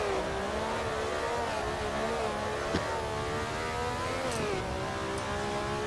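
A Westlake Eagle vintage race car in Assetto Corsa screams along at high revs, a sustained engine drone with brief dips and pitch shifts as it climbs through the gears, loud and close throughout.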